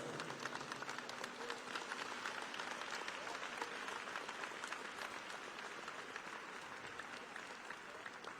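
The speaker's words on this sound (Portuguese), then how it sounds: "um aplauso para Cristo, porque Jesus, Ele merece" A church congregation applauds for Christ at a worship service, a dense steady wash of many hands clapping throughout, fairly distant and even in level, with no voices standing out.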